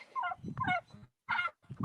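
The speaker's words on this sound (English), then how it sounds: "And the chickens are out." Chickens just let out of their coop clucking and squawking in quick bursts, close and fairly loud, with short pauses between calls.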